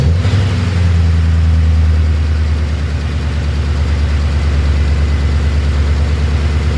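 A supercharged BMW E39 M5 engine runs loud and close, rumbling at a steady idle with a rapid mechanical pulse and slight rises in revs. No voices are heard.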